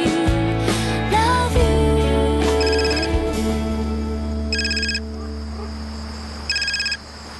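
A telephone ringtone sounds loudly in short repeated electronic bursts, about two seconds apart, over a background of sustained music tones.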